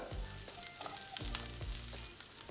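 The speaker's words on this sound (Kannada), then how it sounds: "ಸ್ವಲ್ಪ ಕರಿಬೇವು ಈರುಳ್ಳಿ ಕಲರ್ ಚೇಂಜ್ ಆಗಲಿ ಅಲ್ಲಿವರೆಗೂ ಹುರ್ಕೊಳ್ಳೋಣ" Onion and curry leaves fry in a pan with a soft, steady sizzle, broken by several low thumps and scraping stirs, fairly quiet and close with no speech.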